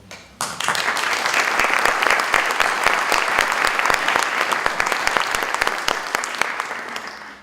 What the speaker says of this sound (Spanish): pido que le demos un aplauso para ella